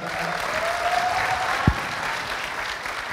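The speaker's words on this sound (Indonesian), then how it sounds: "Beri tepuk tangan yang meriah lagi sekali lagi, Bambang Pacul" A large crowd at an evening gathering with a politician applauds in a continuous, dense wash of clapping, with a faint tone and a brief low thump partway through.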